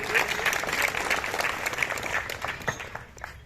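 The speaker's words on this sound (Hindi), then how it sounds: "हम जोरदार तालियों से उनका स्वागत करना चाहेंगे।" A crowd at a legal rights awareness programme on Constitution Day claps loudly to welcome the chief guest, a dense steady round of applause that fades slightly toward the end.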